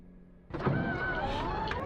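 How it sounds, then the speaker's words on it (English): An aircraft engine starts in the DCS flight simulator: a low idle hum, then a sudden whir as the starter engages and spins up into a rising, steady whine. "So let's crack the throttle and start it."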